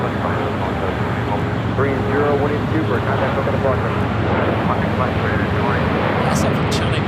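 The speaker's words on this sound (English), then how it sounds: "the 777-300ER heading down to 25 rights" A Boeing 777-300ER airliner lands at Los Angeles International Airport, its engines a continuous heavy roar that swells slightly midway, with a voice talking over the noise.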